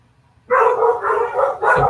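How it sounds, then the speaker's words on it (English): Dogs barking in a quick run of several yips and barks, fairly close and loud, with no talk over them. "The dogs are going on."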